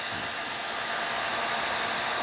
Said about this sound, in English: This hairdryer has a lot more hit behind it than the other one did.